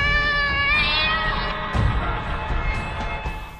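A black cat meows in a drawn-out, wavering cry for a few seconds, close and fairly loud over a low rumbling background, with no talk.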